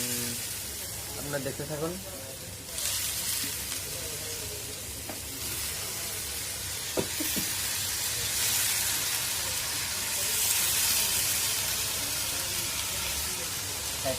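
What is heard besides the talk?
potatoes added to a frying pan, sizzling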